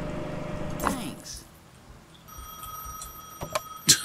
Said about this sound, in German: Und das Telefon schellt.